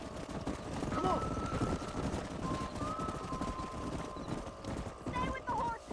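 Horse hooves clop rapidly in a steady galloping rhythm in the video game Red Dead Redemption, with occasional whinnies and voices talking over a busy background.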